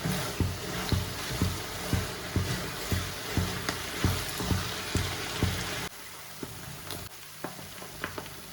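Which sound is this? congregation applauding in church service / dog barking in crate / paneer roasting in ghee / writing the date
paneer roasting in ghee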